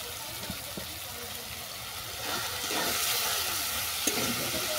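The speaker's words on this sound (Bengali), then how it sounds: "শাকটাকে ভালো করে কষিয়ে নেব।" Ol greens seasoned with salt, turmeric and sugar stir-fried in a pan, a continuous hissing sizzle that grows louder partway through, with faint scraping and a single sharp clink.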